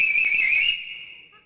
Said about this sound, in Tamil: விசில் விசில் அடிப்பீங்களா நீங்க?